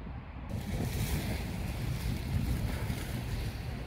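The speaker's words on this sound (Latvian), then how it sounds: "Šī ir Alboranas jūra." Sea waves of the Alboran Sea washing along the shore at Malaga on an overcast day with light wind, a steady wash of surf with a low rumble and some wind on the microphone, no voices.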